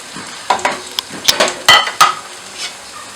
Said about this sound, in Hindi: अब मैं इसमें डाल दूँगी टमाटर और इसको अच्छे से फ्राई करूँगी